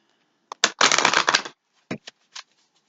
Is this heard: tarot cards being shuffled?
yes